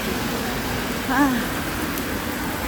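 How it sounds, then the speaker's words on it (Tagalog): Heavy rain pours down with a constant dense hiss that suddenly intensifies, and a brief voice cuts in partway through. "Biglang lumakas ng ulan."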